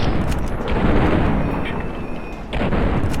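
Grenade blasts in Fallout: New Vegas land as heavy booming bursts, loud and close, overlapping in a rolling barrage with a brief dip before another burst.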